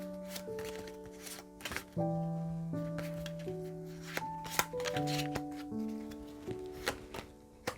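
Tarot cards are shuffled and drawn, with rapid riffling, soft slaps and card taps, close and clear over gentle background music.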